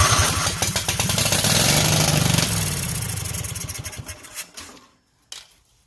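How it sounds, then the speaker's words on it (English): A Kohler small engine cranks on its starter, powered by a booster pack, then catches and runs with a loud, rapid, rhythmic chug before cutting off near the end, followed by a couple of faint clicks. "we'll take our starter booster pack and we'll give the starter some juice."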